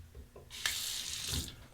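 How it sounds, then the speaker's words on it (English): Cold water runs from a bathroom tap onto a Fatip Piccolo combo safety razor, a steady close hiss of flowing water lasting about a second. "I'm just going to go with the cold water on the razor."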